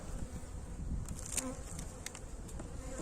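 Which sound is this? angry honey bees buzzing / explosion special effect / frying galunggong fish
angry honey bees buzzing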